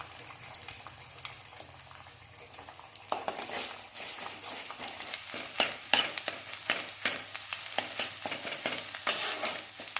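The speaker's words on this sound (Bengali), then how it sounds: "ডিমটাকে নাড়াচাড়া করে ভালো করে ভেজে নিয়েছি।" Beaten egg with salt frying in a little oil for a raw pea and egg dish, a soft sizzle that jumps louder partway through as a utensil scrapes and stirs in quick repeated strokes, close and without talk.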